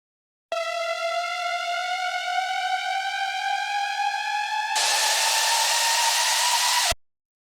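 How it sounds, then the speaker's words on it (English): A white noise riser builds tension in a song breakdown, rising over a sustained tone for about four seconds before the noise swells to full loudness and cuts off abruptly, with no voices. "the tension of the white noise building up"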